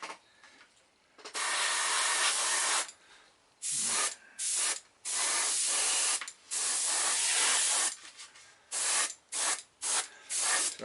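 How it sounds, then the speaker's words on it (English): Black spray paint hisses from a can in repeated bursts of varying length, some long and some short, while coating the inside of a model gun muzzle up close. "I'm just going to paint the inside of the muzzle black."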